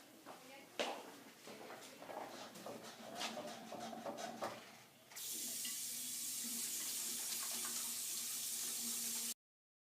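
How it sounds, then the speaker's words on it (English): Water running from a tap while hands are washed, first irregular splashing and hand movement, then a steady, fairly quiet stream of flowing water for several seconds before it stops. "do not forget to wash your hands"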